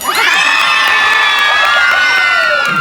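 Crowd at a village fiesta gay pageant cheering, whooping and shouting loudly and continuously, with high children's shrieks rising over the dense roar throughout.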